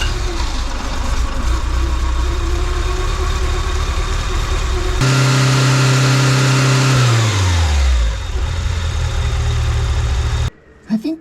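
A 1984 Bertone X1/9 engine, its timing belt refitted after slipping a tooth, runs loudly and steadily. It then revs up hard, holds high, and winds back down before cutting off abruptly near the end.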